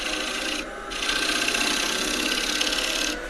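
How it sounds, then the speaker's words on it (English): Scraper shaving the curved surface of a live-edge oak bowl, a steady close raspy scraping in two strokes separated by a brief pause. "This little curve here I'll refine with scraper."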